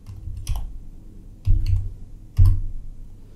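Three short bursts of typing on a computer keyboard, quick clusters of clicks spaced about a second apart, close and clear against a quiet room.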